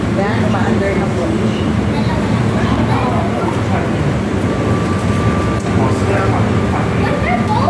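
A small LRT light rail train running in Macau, a continuous loud rumble and rolling hum heard from on board, with people talking over it.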